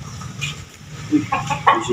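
Gamecocks kept for derby fights cluck close by in short, uneven bursts at morning feeding, over a low background murmur.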